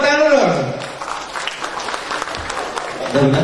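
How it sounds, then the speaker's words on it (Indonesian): An audience at a talk breaks into steady applause, a dense clapping that holds throughout, with a voice speaking briefly at the start and end. "Tepuk tangan dulu."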